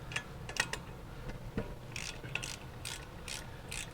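A ratchet with an Allen socket cranks loose 7 mm Allen bolts on a VW brake caliper, giving quick bursts of sharp clicking pawl strokes, close and fairly quiet over a low background hum.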